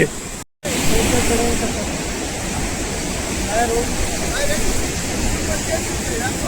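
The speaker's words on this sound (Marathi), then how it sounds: "असा सुंदर पेसाळलेला समुद्र" A steady, broad roar of sea waves fills the scene, with voices faintly present beneath the rushing surf.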